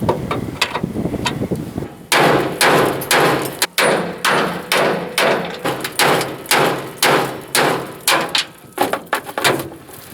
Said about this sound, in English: knock those rivets through the holes in the frame